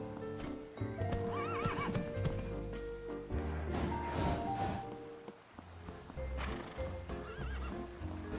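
Horse hooves clop steadily on hard cobblestones in a village in the PC game Horse Club Adventures 2: Hazelwood Stories, with repeated whinnies and neighs over a layered game soundscape.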